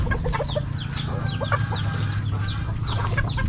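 Roosters cluck and chirp over and over in quick, overlapping calls, close by, against a low steady background hum with no talking.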